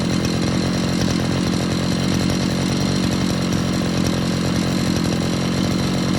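A Chinese petrol brush cutter engine runs at steady high revs, a loud, buzzing two-stroke drone that holds constant without a break from start to finish.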